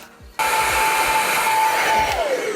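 A hair dryer blows steadily on freshly washed bangs, switching on abruptly and running loud and close with a constant whirring roar and a faint steady whine, the whine dropping in pitch near the end.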